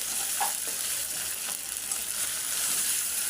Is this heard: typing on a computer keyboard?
no